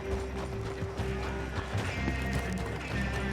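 Horses' hooves clip-clop in a quick galloping rhythm in Red Dead Redemption II, a steady drumming close by under a continuous game-world bed of sound.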